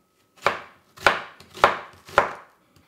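Four firm, evenly spaced chops of a knife cutting an onion on a cutting board, each a sharp close thud with a quick decay, heard alone with no speech.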